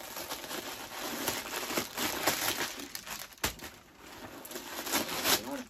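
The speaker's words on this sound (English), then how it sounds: "I'm going to take a bit of the packing out." Crinkly rustling and crackling of packing material being pulled out, close by and fairly soft, in uneven bursts with no voices.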